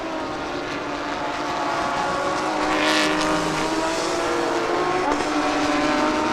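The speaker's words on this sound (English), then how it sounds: "The NSX getting closer. Guidetti now in the slipstream." Honda NSX and Audi race cars in the 2022 B-Quik Thailand Super Series, lapping a circuit closely. Their engines roar loud and close throughout, with steady high-pitched whine and shifting pitch, and no voices.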